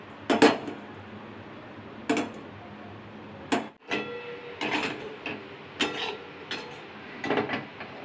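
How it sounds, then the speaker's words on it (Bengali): Sugar being stirred in a wok as it melts into caramel for mishti doi; sharp metallic clanks and scrapes of a utensil against the pan come at irregular intervals, close and clear, over a quiet background. "এটাকে নাড়তে থাকবো যতক্ষণ না চিনিটা গলে ক্যারামেল তৈরি হচ্ছে"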